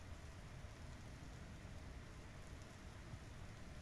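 Steady rain falls in a Star Citizen game scene, a dense, even hiss of drops with low rumbling underneath, continuous and unbroken, with no voices.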